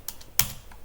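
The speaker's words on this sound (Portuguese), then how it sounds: "deixa eu digitar aqui" A few quick keystrokes tap on a computer keyboard, close and crisp, with one louder key press in the middle and short quiet gaps between.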